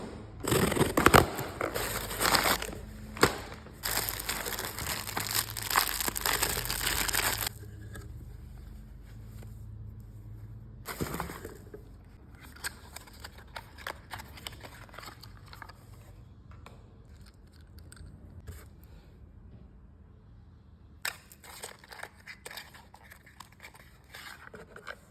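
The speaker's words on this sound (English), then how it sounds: "first let's do a little ASMR unboxing" A skincare shipment from Hugh & Grace being unboxed ASMR-style, with close crinkling, scraping and tearing of packaging in bursts, loud at first and then sparser handling noises separated by quiet gaps.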